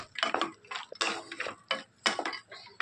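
Lentil dumplings (bori) stirred in a pan with bottle gourd, a run of brisk rhythmic scraping strokes and light clicks, close up, about five or six quick bursts with short gaps between.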